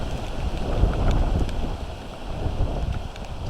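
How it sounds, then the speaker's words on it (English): Rough, blustery wind from a tropical storm buffeting the microphone in gusts of about 50 miles an hour, rising and falling, with a low rumbling roar underneath. "Them gusts right there has got to be every bit of 50 miles an hour."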